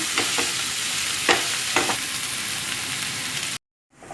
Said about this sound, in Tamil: ஒரு அகலமான பேனில் தேவையான அளவு எண்ணெய் விட்டுட்டு நீங்கள் ஆனியன்ஸ் ஆட் பண்ணிக்கோங்க வெங்காயத்தை வந்து நல்ல ப்ரௌன் கலர் ஆற வரைக்கும் வதக்கணும்